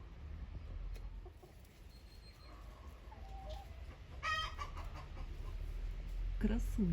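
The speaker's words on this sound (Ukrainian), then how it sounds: "Півник який, маркіз." A rooster clucks in a few short, soft bursts near the end, heard close up over a low outdoor background hum with someone speaking.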